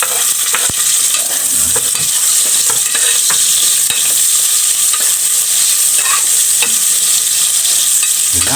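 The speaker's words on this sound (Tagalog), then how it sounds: "Igisa muna natin siya para magkaroon talaga ng aroma yung ating ginataang langka." Garlic and onion sautéing in a pan for ginataang langka, a constant loud sizzle with scattered stirring scrapes and clinks, close up, no voices.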